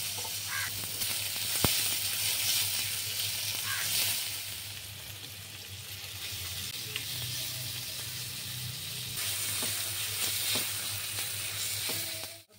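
Onions and tomatoes fry in a pan for a Bengali egg curry, a soft continuous sizzle with a low steady hum beneath and a few faint clinks, moderately quiet and unbroken.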